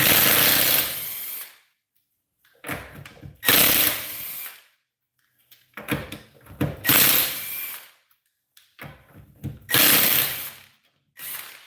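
An air ratchet spins lug nuts off a GM car's front wheel in a series of loud close bursts, each a rapid mechanical rattle separated by short silences.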